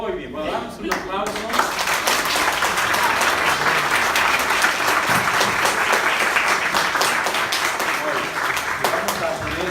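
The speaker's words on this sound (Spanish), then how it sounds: "damos un aplauso" A church audience at a special meeting applauds in a dense, sustained burst of clapping that fills the room, loud and steady throughout with a faint crowd murmur beneath.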